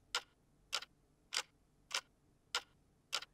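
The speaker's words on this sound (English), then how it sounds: "putting kind of a tick-tock of a clock on top of it" A clock ticking on its own, six evenly spaced crisp ticks about 0.6 seconds apart, close and clean against a quiet background, used as a layer in orchestral fantasy battle music.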